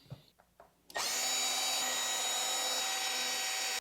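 A power driver runs screws into a servo mount on a Traxxas Maxx RC truck: a few small handling clicks, then one loud continuous whirring drive of nearly three seconds, close up.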